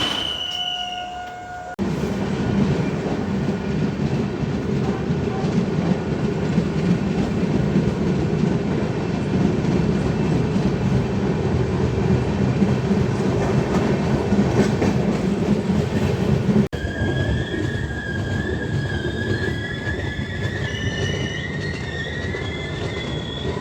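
Konark Express rolling on rails, a steady loud rumble of wheels and carriages with clattering joints and squealing wheel tones throughout, heard from aboard.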